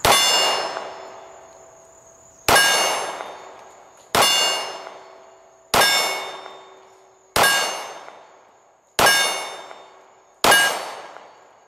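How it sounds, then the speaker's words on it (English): Rounds from a Kimber Ultra Crimson Carry II pistol strike a steel gong seven times at an even pace. Each hit is a loud metallic clang that rings out and fades before the next, with no talking. "that's the pattern we got on those rounds into the gong"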